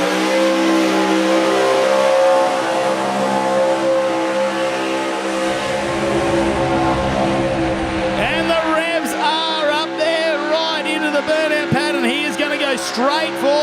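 A burnout car at the Summernats 33 Burnout Masters grand final revs its engine loud and sustained, the pitch climbing and wavering as it spins, with a commentator talking over it.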